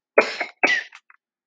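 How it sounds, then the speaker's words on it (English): In a Bloxburg roleplay game, a voice acts out a character's cough from a sore throat: two sharp, close coughs in quick succession, then a faint trailing catch of breath. "Amber has a sore throat, coughing a lot."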